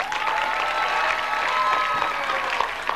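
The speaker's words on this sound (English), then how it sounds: "Please, once more, let's clap for him." Audience applause at a poetry recitation event, a steady dense wash of clapping from a crowd that stays loud and even for the whole stretch, with no speech over it.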